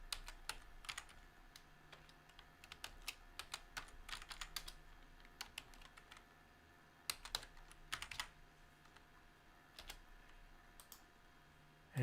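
Item codes being typed on a computer keyboard, a close run of quick, uneven key clicks with short pauses between bursts, quiet and with no voices.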